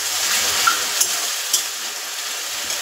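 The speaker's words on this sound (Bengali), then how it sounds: "এই কষাতে কষাতে সামান্য একটু পরিমাণ জল দেবো, যাতে মশলাটা পুড়ে না যায়" Ginger-garlic masala sizzles steadily in a pan, a loud continuous frying hiss with a few soft stirring scrapes and small clicks, no voices.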